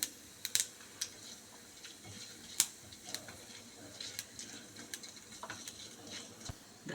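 Mustard seeds and urad dal crackling in hot oil in a pan, with scattered sharp pops and faint sizzling. Close but fairly quiet.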